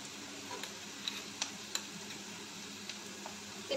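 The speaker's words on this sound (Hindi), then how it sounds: "इसके बाद मैं इसमें अदरक लहसुन का पेस्ट डाल दूँगी" Ginger garlic paste sizzling in a pan with browned onions, a steady soft frying hiss with faint scattered ticks and small pops, low and continuous throughout.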